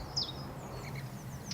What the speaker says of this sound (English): And there's the willow warbler.